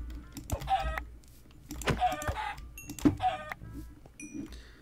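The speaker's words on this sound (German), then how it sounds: "Hier sind noch Hühner" Chickens in Minecraft cluck and squawk in short bursts amid game background noise and clicking, with a few brief tonal chirps.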